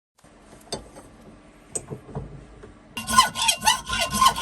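Hand saw cutting brass and ebony pieces for a low-profile hand plane: a few sparse scrapes and knocks, then a run of rapid, bright rasping strokes close by.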